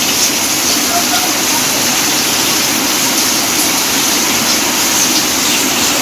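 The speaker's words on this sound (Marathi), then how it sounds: "पाऊस बघा" Heavy rain pours down in a dense, steady, loud hiss near a shed on a windy, rain-soaked day. The downpour continues unbroken with no talking.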